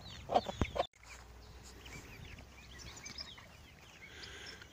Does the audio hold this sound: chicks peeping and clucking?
yes